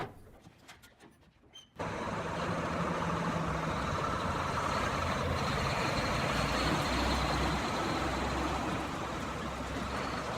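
Heavy timber trucks at a hardwood coffin factory drive out through the gates, a loud steady engine rumble that starts abruptly after a quiet moment and continues without talk.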